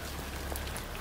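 Steady rain falls as an even, broadband hiss, faint and unbroken, with no voices.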